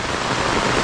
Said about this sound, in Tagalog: naglakas na yung ulan masyado